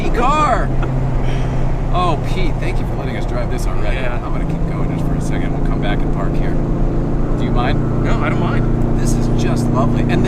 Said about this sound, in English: And the engine is so healthy. It sounds great.